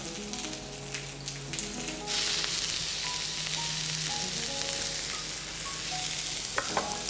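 Bread and zucchini frying in oil in a pan, a dense close sizzle that swells louder midway, with a few sharp crackles and pan clicks near the end, no voices.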